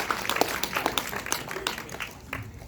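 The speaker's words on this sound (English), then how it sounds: "A nice round of applause for our graduates." Graduates at an 8th grade promotion ceremony get scattered, uneven clapping from the audience, a loose patter of hands spread through the room with a faint murmur of voices underneath.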